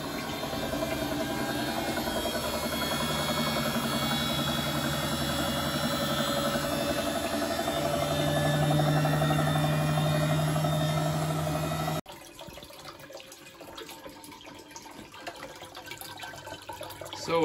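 A Bosch WFP3300 washing machine full of limescale runs a rinse cycle, giving a steady loud hum with sloshing water that drops abruptly to a quieter churning near the end.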